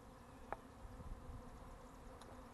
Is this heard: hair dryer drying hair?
no